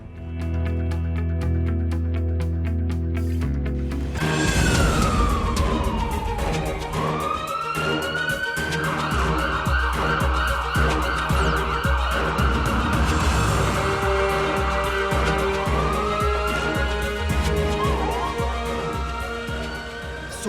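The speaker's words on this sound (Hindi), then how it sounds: "बेंगलुरु में अचानक ही एम्बुलेंस की सायरन गूंजने लगी" Ambulance sirens wailing through Bengaluru late at night, several rising and falling tones overlapping against steady traffic rumble, loud and sustained throughout.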